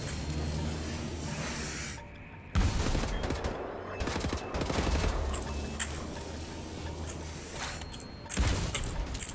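Gunfire in the video game Wolfenstein: The New Order, with bursts of rapid automatic shots and sharp cracks broken by short pauses, loud and close.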